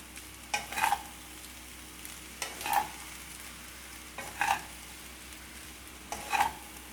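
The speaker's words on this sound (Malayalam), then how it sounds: "ഞാൻ ഫ്ലെയിം ഓഫ് ചെയ്ത് കൊടുക്കുകയാണ് എന്നിട്ട് ഒന്ന് ഇളക്കി കൊടുത്താൽ മതി" A spoon stirs gobi fried rice with spring onion greens in a pan after the flame is switched off, making four evenly spaced, soft scraping strokes with a faint sizzle in between and no talking.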